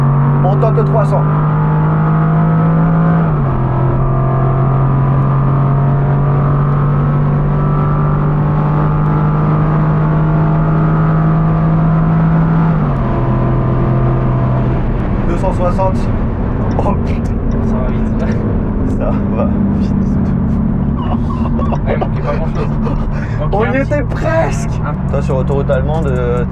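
Supercar accelerating hard on a German autobahn toward 300 km/h, a loud sustained engine drone climbing through gear changes with a shift around the middle, heard from inside with talking over it.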